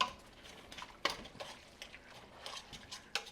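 Ground beef being stirred in a pan, a utensil scraping and tapping against the metal in a few separate strokes with soft clinks, close but quiet, with no talking.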